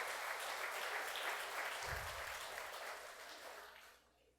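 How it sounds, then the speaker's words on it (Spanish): A church congregation claps for the Lord during a service, a dense, fairly distant round of applause that holds steady and then fades out near the end, with a brief low thump partway through. "Dale un fuerte aplauso al Señor que nos bendice."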